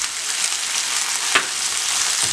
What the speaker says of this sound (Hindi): अब इसमें टमाटर डालूंगी।